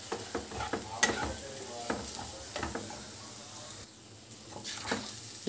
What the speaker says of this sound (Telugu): ఇలాగ లో ఫ్లేమ్ మీద చక్కగా ఈ గుడ్లు ఈ మసాలాలో 2 నిమిషాలు ఇలా వేయించుదామండి.